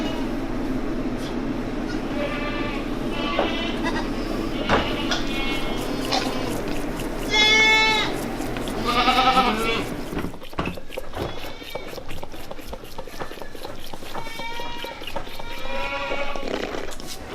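A lactating goat bleats several times at close range, the calls standing out over a steady background rumble, with brief gaps between the cries.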